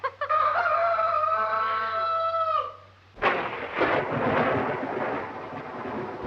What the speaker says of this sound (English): Storm's just as bad as ever, isn't it?